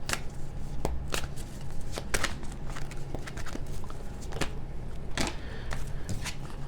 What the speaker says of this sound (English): Let's go ahead and pull a lesson card.